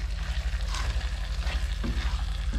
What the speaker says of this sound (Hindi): जी तो वेजिटेबल्स हल्की हल्की फ्राई हो चुकी हैं